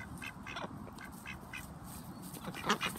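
Khaki Campbell ducks quack in a lively cluster while eating blueberries, repeated nasal calls close by over soft background noise, growing louder near the end.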